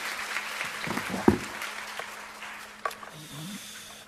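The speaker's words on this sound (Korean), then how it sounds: "큰 박수 부탁드립니다" Audience applause at a political lecture, a fairly faint and steady spread of clapping with a few sharper claps standing out, fading down toward the end.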